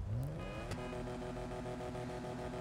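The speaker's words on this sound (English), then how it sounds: "Let's rev this up and see how it sounds and revs." A Coquette Classic sports car engine revs in the GTA 5 video game, a quick rising rev that settles into a loud, steady idle drone with clear harmonic tones and no talking.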